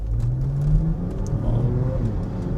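A car in sport mode revving its engine, a deep rising and falling rumble heard from inside the cabin, continuous and fairly loud with no voices.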